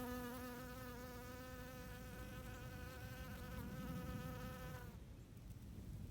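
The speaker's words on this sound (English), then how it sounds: "Honeybee! Oh, look at her working." A foraging honeybee laden with pollen buzzes steadily on a flower outdoors, a close, continuous drone with a clear harmonic whine that holds for about five seconds before fading abruptly, leaving soft ambient background.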